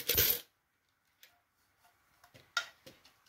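Coins clink and rattle in a plastic salad box used as a piggy bank: one loud jingling shake, then a series of small, sparse, close clicks and taps as individual coins are handled.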